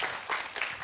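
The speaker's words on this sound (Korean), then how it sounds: "유주교님께 한번 큰 박수 부탁드립니다." Applause for a bishop at a memorial talk concert for Cardinal Kim Sou-hwan: a short burst of audience clapping, moderately loud and blended into a continuous patter.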